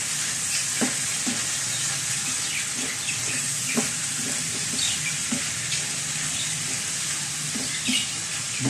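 Adobo with beans and sweet potato sizzles steadily in a pan while a spoon stirs it, scraping taps landing every second or so over a constant frying hiss.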